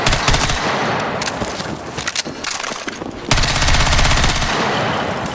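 Rapid automatic gunfire in the video game Battlefield 6, loud, close bursts of fast rattling shots running almost continuously, briefly thinning before a second dense burst, with no talking.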